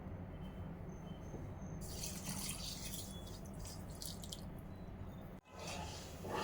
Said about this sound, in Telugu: అలాగే ఈ షుగర్లో మనము 2 కప్పులు తీసుకున్నాం కదా, కొంచెం ఒక 3/4 కప్పు లేదంటే ఒక 1/2 కప్పు వరకు మనము